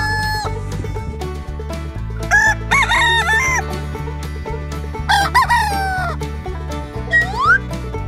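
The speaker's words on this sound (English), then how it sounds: "Rooster." A rooster crows several times in loud, drawn-out calls over a steady, rhythmic music backing, each crow rising and falling clearly above the beat.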